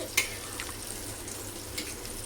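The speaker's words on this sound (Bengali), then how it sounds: "মুগের ডালটা একটু ভেজে নিচ্ছি হালকা করে" Moong dal frying lightly in a pan gives a steady, close hiss of sizzling with a few faint scrapes and clinks.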